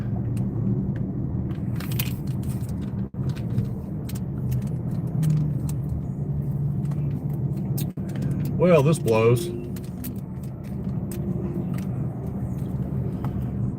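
A car rolls along an interstate near a crash scene, giving a steady low road rumble and engine drone throughout, with a person talking over it.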